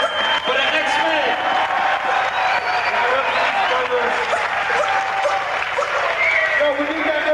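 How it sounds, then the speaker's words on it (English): A live crowd applauds and cheers for the X-Men DJ crew at a 30th anniversary turntablist battle, a steady dense wash of clapping with voices mixed in. "please give a nice round of applause for the X-Men."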